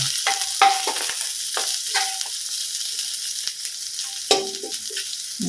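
Onions sizzling and frying in a hot pan as fried rice is stirred, with bursts of scraping and clinking from the spatula over a steady crackle.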